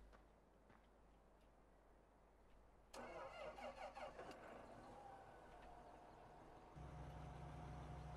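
A Farming Simulator 15 tractor engine cranks and catches with a sudden rise in volume, then settles into a steady, close mid-pitched idle that steps up briefly before levelling out.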